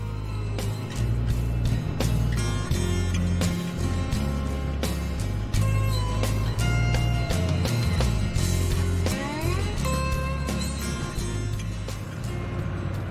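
A car or camper van drives along with a steady, loud engine drone and road rumble, accompanied by continuous background music.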